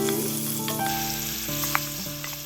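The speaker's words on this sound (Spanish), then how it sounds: "lo vamos a sofreír por 1 a 2 minutos con un poco de aceite de achiote" Cooking ham sautéing in a spoonful of achiote oil, with a close, continuous sizzle and a few faint stirring touches over a short stretch, no voices.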